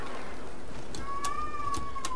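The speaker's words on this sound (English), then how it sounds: "You guys might be able to hear my cats meowing." A cat meows once in a long, rising-and-falling call, fairly close, over a steady background hum with a few soft clicks.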